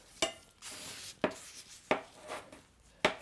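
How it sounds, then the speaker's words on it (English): A knife dices pieces of store-bought apple pie on a cutting board, with four crisp, separate chops spaced about a second apart, close and moderately loud with no talk. "So let's get that cut. I'm gonna get them diced."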